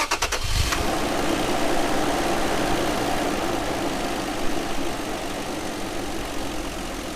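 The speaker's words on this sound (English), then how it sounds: "let's start the car up and see what it sounds like" A Toyota Tacoma pickup truck engine, already hot, cranks briefly and catches, then settles into a steady, rumbling idle that continues evenly, close by, with no talking.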